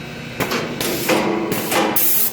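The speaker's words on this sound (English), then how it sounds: "First thing, we're going to show the decapper dry fire." A bottle decapper on a bottle washing line dry firing in four sharp, loud mechanical bursts, each a clattering thump with a hissing tail, spaced roughly half a second apart and close up.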